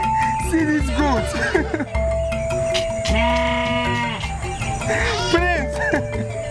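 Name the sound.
goat bleating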